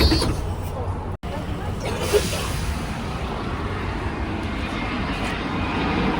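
Aeroplanes flying over London give a steady, broad, far-off roar that lasts throughout, with street background noise underneath.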